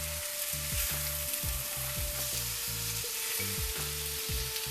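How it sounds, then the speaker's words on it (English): Tempeh and vegetables sizzling in a pan while the bottom is scraped to lift caramelized bits, a continuous hiss overlaid by repeated rhythmic scraping strokes, close up and with no speech. "kind of scrape the bottom of the pan to get any of the caramelization from the vegetables or the tempeh that's stuck to the bottom of the pan"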